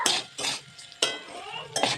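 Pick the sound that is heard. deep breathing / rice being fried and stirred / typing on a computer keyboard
rice being fried and stirred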